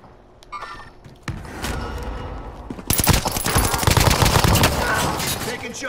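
Gunfire in the video game Call of Duty: Modern Warfare, a dense run of loud rapid shots and bursts that grows heavier midway, with voices calling out over it.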